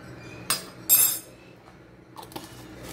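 A tablespoon clinks against a container while scooping baking powder for an old-fashioned cake batter: two short metallic taps close together, then fainter clinks a moment later, with no talking.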